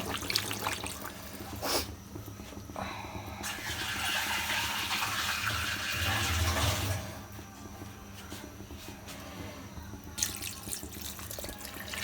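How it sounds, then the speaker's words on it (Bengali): Water poured into browned curry to make gravy, a splashing pour rising for several seconds, then stopping, with a second brief pour near the end over low background hum. "এখন এর ভিতরে ঝোলের পানি দিয়ে দেওয়া হবে"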